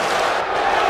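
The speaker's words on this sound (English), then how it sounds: "Crowd booing, crowd chanting, Roman sucks." A wrestling arena crowd in WWE 2K18 boos and chants, a dense, steady roar held loud and unbroken for a moment.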